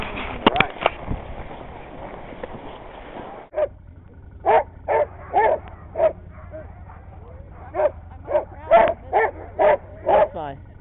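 A team of sled dogs barks and yips in a rapid, excited chorus of repeated sharp calls close by, loud and continuous over the clip, with some speech mixed in at the start.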